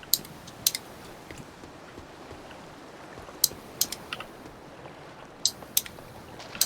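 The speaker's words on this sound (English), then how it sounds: "I will take the clicking noises as a yes from Kai" A computer keyboard clicks in sparse, sharp bursts of a few keystrokes each, spread across a quiet background during an online co-op game session.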